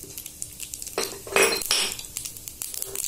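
Onions go into hot oil for a dal tempering, bringing a burst of sizzling hiss mixed with metallic clinks of a pan and spoon, close and brief, with no talking.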